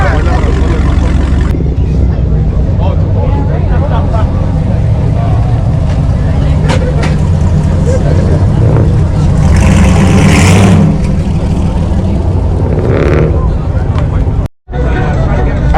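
Roaring, revving car engine at a busy Milwaukee street car meet with police nearby, loud and continuous with crowd chatter and voices throughout, swelling around the middle before a brief cut near the end.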